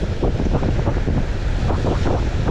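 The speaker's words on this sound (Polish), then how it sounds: "Te wiatry, te fale się już robią tak mocne, że już prawie się nie da kopać." Strong wind buffets the microphone on a beach over the constant roar of crashing sea waves, loud and unbroken.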